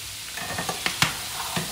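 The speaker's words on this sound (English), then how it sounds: "And now that this is melting, I'm gonna add the shrimp." Shrimp dropped into melted fat in a home kitchen pan, giving a low steady sizzle with a few sharp clatters and splatter pops as pieces land, close and alone with no talk.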